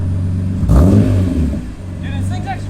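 A BMW E46 M3 fitted with headers and an aftermarket exhaust surges past close by, a loud rising engine roar that swells and fades, followed by a faint whine.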